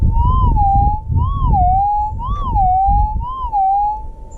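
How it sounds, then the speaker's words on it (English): Warbling, siren-like tone from a metal detector as its coil sweeps over a hot, highly mineralized rock while prospecting near Meekatharra, Western Australia; the pitch rises and falls about once a second, loud and steady over a low rumble. "I'll just show you what it sounds like when you run the coil over it."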